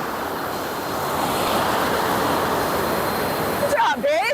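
Water pours at Pala-U Waterfall in Hua Hin, Thailand, as a steady, dense roar close to the microphone, with a voice breaking in briefly near the end.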